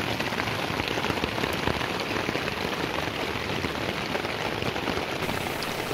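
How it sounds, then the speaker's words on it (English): Heavy tropical rain pours down steadily in a rainforest, a dense continuous hiss of drops striking leaves and ground close by, loud and unbroken throughout with no voices. "suddenly it's a downpour"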